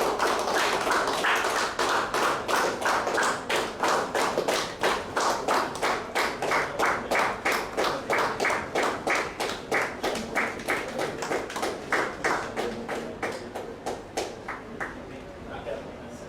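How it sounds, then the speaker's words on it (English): An audience at a Sri Lankan Premier League cricket player auction claps in a steady, rhythmic round of applause that starts strong and gradually thins and fades toward the end. "give a big round of applause"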